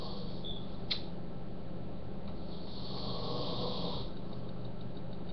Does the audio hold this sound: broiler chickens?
no